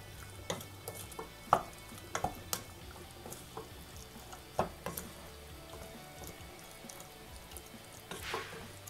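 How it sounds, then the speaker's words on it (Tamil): A spoon stirs prawn biryani ingredients inside a pressure cooker, producing faint, irregular metallic scrapes and clinks over a quiet background hiss. "இப்போ இது எல்லாத்தையும் நல்லா கலந்து விட்டுறலாம்."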